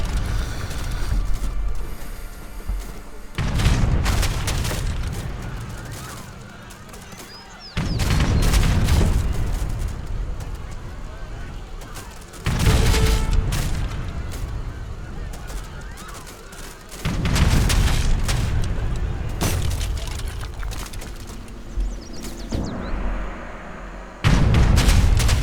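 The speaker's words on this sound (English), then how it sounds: "they do have to be careful of these cannonballs coming in from the artillery pieces" Artillery cannonballs explode in a battle in the video game Age of Empires 3, a series of loud, heavy booming impacts that arrive in bursts with short pauses between them, with no voices over the barrage.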